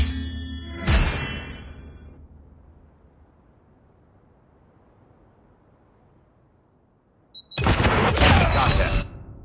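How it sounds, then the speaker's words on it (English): Predator missile strikes explode in a video game: a loud burst rumbles and decays into a long fading tail, then a second heavy blast of explosions roars near the end. "Hostile Predator missile inbound."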